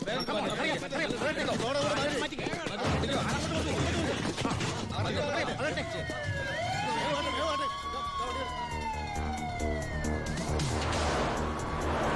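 Fire engine siren wailing at a roadblock checkpoint, rising and falling tones sweeping in over busy background noise and voices, growing louder as it approaches.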